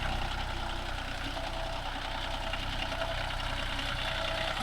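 A John Deere 5310 tractor engine labors under load while pulling a nine-tine cultivator through dry farmland, a steady, loud diesel drone with a knocking rumble that holds constant throughout, no voices.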